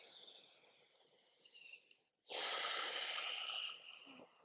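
Breathing in and out during a morning yoga stretch: a long airy exhale, a short pause, then a loud, close, sustained breath that tapers off, with no talking.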